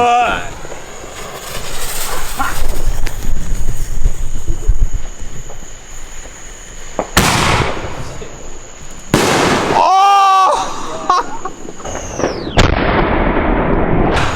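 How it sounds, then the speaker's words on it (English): Loud Fourth of July fireworks boom and crackle in several close, heavy cannon-like bursts, with whistling trails and excited shouting between the blasts. "Everyone else has dwinky little fireworks, and we're shooting off cannons"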